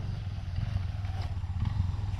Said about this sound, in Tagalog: Tapos may mga motor dito dadaan